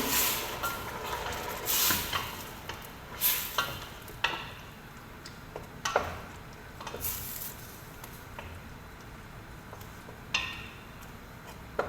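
Intermittent scraping and clinking of a spoon stirring chicken in a simmering broth in a pan, with a soft bubbling simmer underneath and occasional louder knocks.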